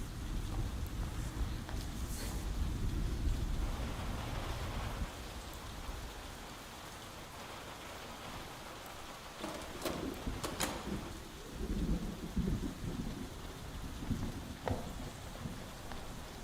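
Steady rain falls on surfaces around a houseboat in the video game Zero Parades, a soft continuous patter with scattered closer drips and faint bird calls, heard alone without talk.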